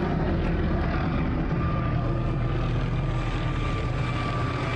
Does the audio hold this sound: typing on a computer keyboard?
no